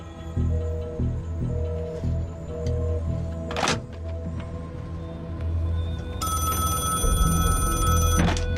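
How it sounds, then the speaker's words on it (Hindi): A telephone rings in a Hindi-dubbed crime thriller film scene. Repeated ringing pulses come at a steady rhythm over a low, continuous background score, and a brighter tone enters near the end. "सर, वही दानियाल खान का फोन है"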